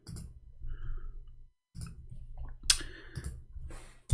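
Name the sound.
computer keyboard typing clicks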